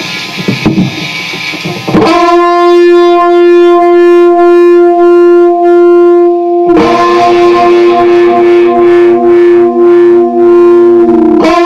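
An electric guitar solo recorded on a Zoom R24 with an exciter effect rings out loud and distorted, with long sustained bent notes and unison bends holding steady over several seconds after a brief noisy start.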